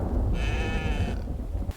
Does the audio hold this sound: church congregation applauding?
no